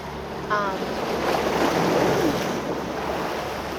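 A boat pushing through water and waves, with a continuous rushing wash of surf and wind buffeting the microphone, loud and close throughout.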